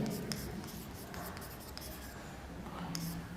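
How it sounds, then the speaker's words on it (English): Writing out a definition on a board during a linear algebra lecture: short scratchy marker or chalk strokes and taps, fairly close and faint, with no speech. "you first write the definition of kernel."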